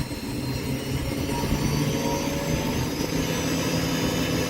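A CNC PM25 spindle with oil-lubricated bearings runs at about 4,000 RPM, giving a steady, even machine whine and hum that never changes and has no voices over it.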